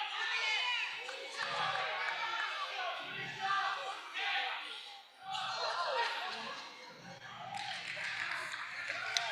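Crowd at a live gymnastics meet cheering and calling out during a parallel bars routine, a steady mix of shouts and claps rising in bursts, with a commentator talking over it.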